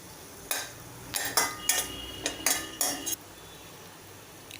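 Dates stirred and fried in ghee in a pan, with a run of loud scraping and clinking spoon strokes against the metal, about six in quick succession, over a faint background sizzle.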